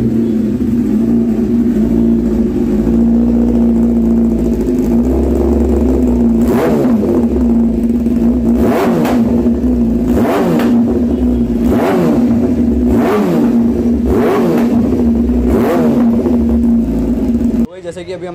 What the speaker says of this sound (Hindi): जैसे कि अभी हमने इसका एग्जॉस्ट नोट सुनाया आपको